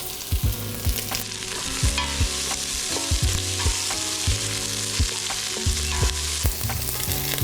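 Black peppercorns, crushed red pepper and bay leaves sizzle in hot oil in a pot for cioppino, a seafood stew. A steady, loud frying hiss is broken by regular knocks and scrapes of stirring.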